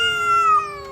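A domestic cat gives a single clear, close meow lasting about a second, slightly falling in pitch, with no other sound around it.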